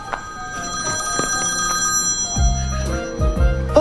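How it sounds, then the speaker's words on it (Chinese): A mobile phone rings with a repeated electronic ringtone, a bright tone that gives way to a pulsing melodic pattern, loud and close, with no voices. "谁电话响？ 好像是我的。"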